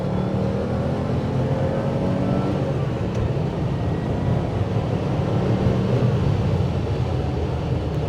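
A 1986 Porsche 911 Turbo (930) engine drones loudly and steadily throughout, a continuous low rumble with road and wind noise, recorded from the passenger seat.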